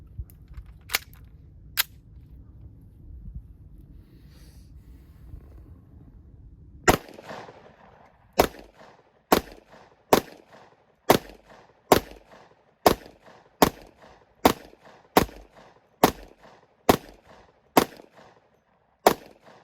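A Smith & Wesson M&P 2.0 10mm pistol fires 200-grain Federal HST hollow points: two early sharp reports, then a steady string of about thirteen evenly spaced loud shots over a quiet outdoor backdrop.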